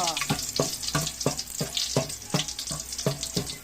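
Vegetables sautéing in a hot pan for spinach with sardines, a steady loud sizzle broken by regular scraping strokes of stirring, close and continuous with no talking.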